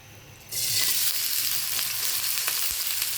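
Oil heating in a pan for frying fish, quiet at first, then a sudden loud, dense sizzle that starts about half a second in and holds steady and close with faint crackles, no voices.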